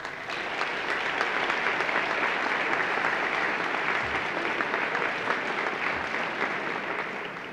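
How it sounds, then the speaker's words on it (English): A steady wash of applause from the audience at a senior honors night at Westminster, dense and even for several seconds before tapering slightly at the end. "they deserve at least another round of applause"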